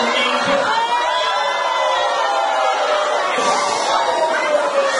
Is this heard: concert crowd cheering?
yes